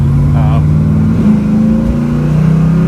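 A 1969 Chevrolet Camaro restomod engine runs with a loud, deep, steady rumble that rises slightly in pitch, and a voice talks briefly over it.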